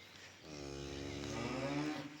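A cow on a farm lets out one long, low moo that swells and holds for over a second, close and clear against quiet surroundings.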